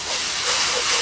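A pressure cooker vents steam in a home kitchen, a loud, steady, close hiss filling the whole moment without a break.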